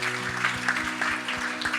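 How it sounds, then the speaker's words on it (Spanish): A church congregation applauds during a service: brief, dense, fairly soft clapping over a sustained musical tone in the background. "Demos aplausos al Señor."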